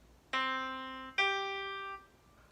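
A pair of held, bright instrumental notes, the second entering just under a second after the first, outlining a perfect fifth; each tone rings steadily and fades slightly, with nothing else heard.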